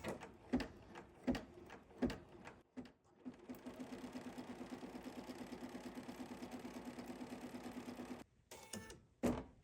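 A sewing machine stitching a placement line on foundation paper piecing sounds first as a few separate short bursts, then as a long, fast, even run of stitches before it stops, with another short burst at the end.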